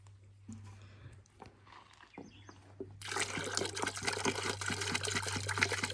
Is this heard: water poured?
yes